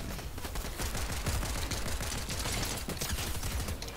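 Rapid, dense gunfire crackles continuously through a video game firefight, pistol shots layered with bursts from other weapons, loud and close throughout with no pause.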